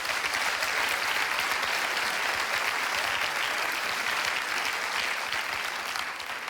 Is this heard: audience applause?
yes